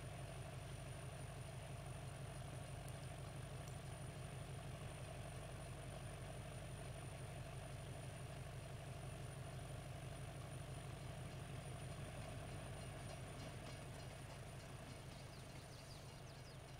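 A long freight train rolls past in Farming Simulator 22, a steady low rumble and clatter of wheels holding level and continuous throughout, with a faint high whine above and no talk.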